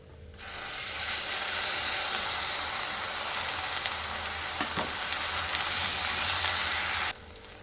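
Blended paste hits a hot pan of oil and spices with a sudden loud, steady sizzle that holds for several seconds, then cuts off abruptly, with faint stirring scrapes under it.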